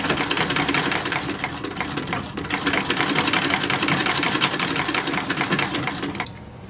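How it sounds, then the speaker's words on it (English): A sewing machine stitches a waistband onto a 1930s–1940s style toddler romper, running in a steady, loud, continuous whir for several seconds before stopping near the end. "And we're gonna stitch a little waistband on here."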